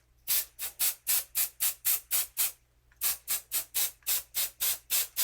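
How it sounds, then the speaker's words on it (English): Rapid bursts of aerosol basting spray hissing close by onto fabric, about a dozen short even puffs, a brief pause, then another quick run of sprays. "I just want to lightly spray it."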